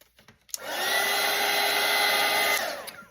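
Hair dryer blowing a steady, loud whoosh over a watercolour painting of an underwater starfish scene, switched on after a short pause and running continuously for a few seconds before cutting off.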